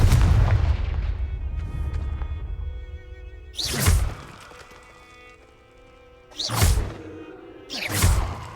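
Confringo fire-blast spell in Hogwarts Legacy: three loud, sharp explosive bursts with whooshing tails, the first hit mid-clip and two more close together near the end, each fading over a low rumble.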